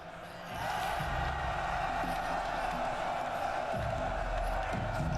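An army crowd in Total War Rome Remastered roars in a sustained, dense cheer after a general's battle speech, rising within the first second and holding steady to the end.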